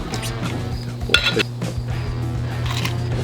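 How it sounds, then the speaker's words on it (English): Claussen pickles being chopped with a knife for bacon burgers, giving a few light clinking knife-on-board knocks over a steady low background hum, with a brief louder clatter near the middle. "I am gonna chop up the best pickles in the game right now"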